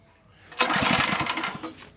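A Lifan 8-horsepower engine fitted to a Neva MB-1 walk-behind tractor fires up on a pull start, a sudden loud close engine burst that runs briefly and then tapers off.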